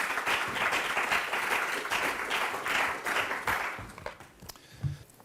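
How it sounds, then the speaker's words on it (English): Audience at a property conference session on regeneration applauds steadily, a dense loud wash of clapping that fades out over the last second with a few scattered claps. "Would you show our guests a round of applause?"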